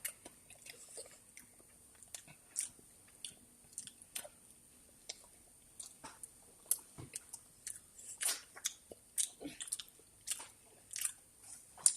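Someone eats Yonsei milk cream bread, making quiet, close bites and soft chewing and squishing sounds that come in irregular bursts with no talk.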